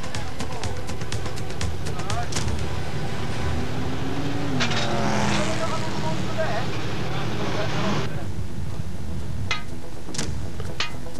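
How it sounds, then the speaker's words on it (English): Hot Stocks race car engines idle and rev in the pits at Birmingham Wheels, a steady rumble with occasional revving swells and clanks. Someone talks over the engines throughout. "Ash Calverley, last minute adjustments to the engine."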